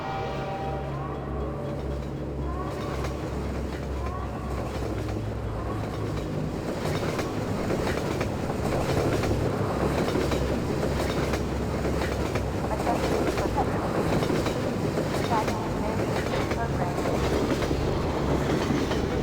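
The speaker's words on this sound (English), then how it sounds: "And there's a train coming." A train in the Half-Life 2 game rolls along the tracks with a low, building rumble and rhythmic wheel clatter that grows steadily over about twenty seconds, heard at moderate volume.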